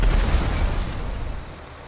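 A deep, rumbling explosion in the video game GTA 5 booms at the start and then fades into a long, noisy roar that tapers off.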